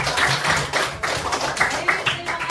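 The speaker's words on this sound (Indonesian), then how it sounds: "Tepuk tangan dong." Children in a classroom clap their hands in quick, uneven bursts, a loose patter of many small palms lasting a couple of seconds, fairly close and with no one talking over it.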